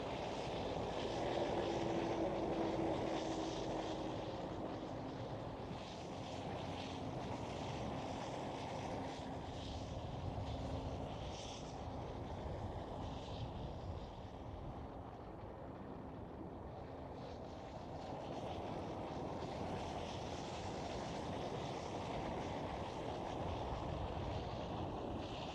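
SAS airliner in retro livery at Amsterdam Schiphol, a steady broad jet roar that holds loud throughout, swelling slightly at the start and end as it passes, with no voices.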